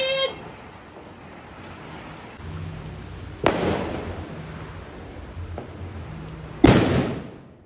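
Diwali firecracker bombs burst in two sharp, loud explosions a few seconds apart, with crackling fireworks popping faintly in the background between them.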